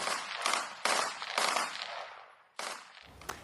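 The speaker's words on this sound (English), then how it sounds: "So that's the sound of gunfire that we can hear from over the border?" Gunfire carries from across the Israel-Lebanon border in sharp, repeated bursts of shots, each cracking out and trailing off in echo, fairly faint with no talk over it.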